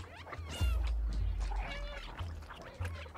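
A cat meows in the video game Stray, with a few short cries over a steady low in-game hum, fairly close and clear.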